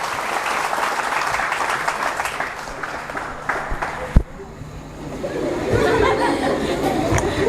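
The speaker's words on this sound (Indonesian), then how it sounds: "Tepuk tangan yang meriah bagi Tuhan Yesus." A church congregation of Christian lecturers and students applauding during an Easter sermon, loud dense clapping mixed with some laughter that drops off suddenly midway, leaving quieter room murmur.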